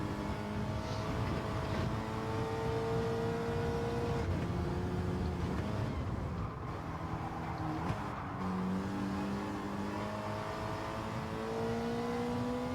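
A Ferrari Dino race car engine in Gran Turismo 7 drones steadily with rising and falling revs through gear changes during a lap at Alsace, continuous and fairly even in level, with no talking.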